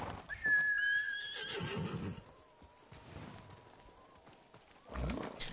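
A horse in the Ghost of Tsushima video game gives one loud, high whinny near the start, trailing into snorts. Game ambience and hoof sounds follow, with another burst of noise at the end.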